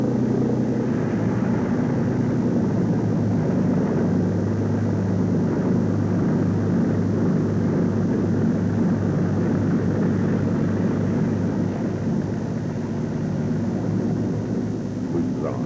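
Piston engines of B-24 Liberator bombers rumble steadily on taxiways in the Norfolk countryside, a continuous loud low drone with no pauses throughout.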